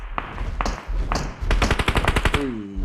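Gunfire in the video game PUBG Mobile: a few sharp single shots, then a rapid automatic burst of about a dozen loud, evenly spaced cracks, followed by a short rising tone.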